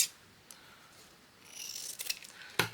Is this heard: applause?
no